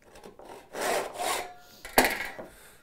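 A hand saw cutting wood for a half lap joint makes a few short rasping strokes in uneven bursts, close and fairly loud, with a sharp stroke near the end.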